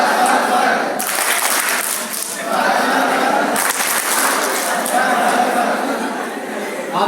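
A school audience at an Independence Day prize distribution gives a welcome round of clapping for the mayor, dense and loud in two surging waves, mixed with crowd chatter and some laughter.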